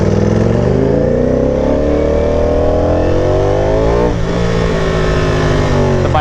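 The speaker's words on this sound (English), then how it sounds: "The bike sounds so much louder with the visor up, it's crazy." A Ducati Panigale V4R motorcycle engine roars loudly and steadily on the road, pitch climbing as it revs up through the gears, recorded close from the rider's position with a throaty, continuous drone.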